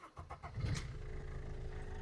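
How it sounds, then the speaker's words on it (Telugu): A 2017 Maruti Swift Dzire VDI diesel engine starts: a few quick cranking pulses, then it catches and settles into a steady, fairly quiet idle with a faint whine. "ఫ్రెండ్స్ ఒకసారి ఇంజిన్ అయితే స్టార్ట్ చేస్తున్నాను."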